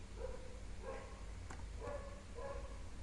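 Dogs bark somewhere away from the microphone in a few faint, spaced bursts over a steady low background hum, with no talking.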